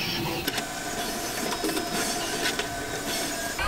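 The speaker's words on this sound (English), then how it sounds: "Chamfer the back of that buttonhole." CNC mill running a quarter-inch end mill to chamfer the back of a buttonhole on a GoPro case front, producing a steady, loud, close machining whine and chatter with no talk.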